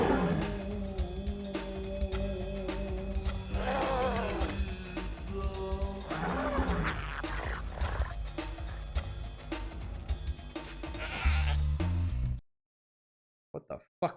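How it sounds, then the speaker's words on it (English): Sheep in the Spyro 2 video game bleat and cry out in alarm over loud, busy game music and effects, several wavering calls overlapping, ending in an abrupt cut to near silence. "all the sheep are fucking terrified of Spyro."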